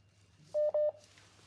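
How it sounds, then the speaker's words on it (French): Telephone line noise heard as a short burst of electronic tones, two or three steady beeps in quick succession over a faint hum, alone with no talking. "Ah, Seigneur, téléphone peut crépiter comme ça?"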